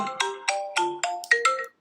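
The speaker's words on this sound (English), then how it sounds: "I got a phone call." A phone ringtone plays an incoming-call melody of about seven bright, evenly spaced tones, loud and close, with no talking, then stops abruptly.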